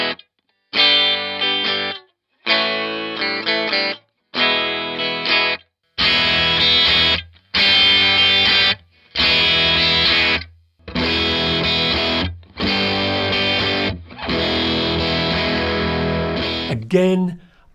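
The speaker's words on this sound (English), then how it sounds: "the amp can be overdriven at various stages without excessive volume" Tone King Ironman II tube guitar amp, overdriven and run through an attenuator, playing loud distorted chords and riffs in separate bursts with short silent gaps between phrases, alone with no talking.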